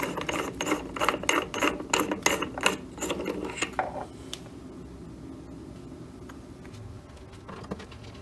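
A 3D printed high voltage connector being threaded in and out, rapid ratcheting plastic clicks in bursts for about four seconds, then near quiet with a few faint ticks, close up and alone.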